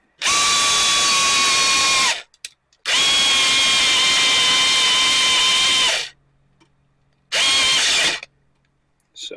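A power screwdriver whirring as it drives screws back into a National VHD player, three loud sustained bursts of about two to three seconds each with brief pauses between, close and alone.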